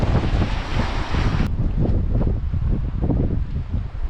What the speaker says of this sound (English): and it is windy in Exmouth today